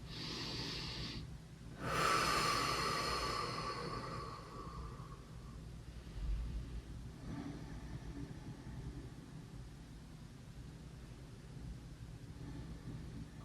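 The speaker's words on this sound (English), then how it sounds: "take a couple nice deep breaths on that ball" Slow deep breathing by someone lying on a ball during myofascial release, a long audible inhale-exhale swell followed by quieter breaths over a steady low background hum.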